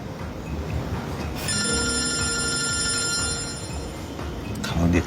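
A telephone rings in a steady, insistent electronic pattern, the bright ringing tone repeating for several seconds over a low background hum, fairly close and clear with no talk.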